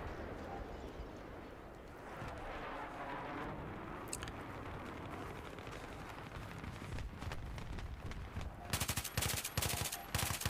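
An ACW rifle fires in Battlefield 3 amid a noisy, rumbling battlefield backdrop. Rapid automatic bursts crackle throughout and grow sharper and denser near the end, fairly quiet overall.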